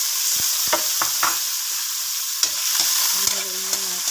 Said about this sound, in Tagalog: Pwede natin ilagay yung ating kamatis.